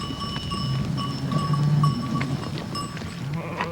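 A band of about 2,000 sheep grazing on Steens Mountain, Oregon, with cowbells clanking irregularly over a steady low murmur of the flock, fairly close and continuous.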